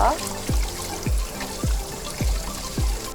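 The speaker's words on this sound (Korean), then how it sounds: "찬물에 한 3분 정도 잘 헹구셔가지고 안에 있는 짠기들을 잘 제거해 주세요" Salted shrimp rinsed in cold water, a steady trickle and slosh of water with regular gurgling pulses about every half second.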